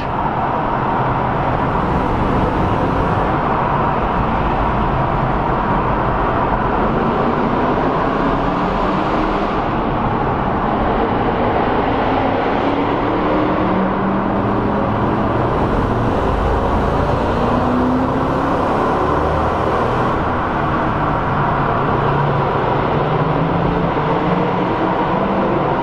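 Cars at an AMG meet drive past and rev, a continuous loud engine and road roar with rising and falling engine tones across the clip, no voices over it.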